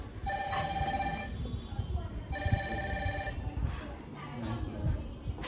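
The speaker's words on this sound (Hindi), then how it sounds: "इसमें फोन आ रहा है ना" A phone's electronic ringtone sounds twice in a classroom lesson, two bright melodic bursts about a second long with a pause between, over a teacher talking and students chattering.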